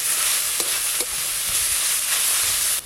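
Salted drumstick (sajne) greens are stirred and fried in a pan, giving a loud continuous sizzle broken by a few short scraping strokes, with no voices.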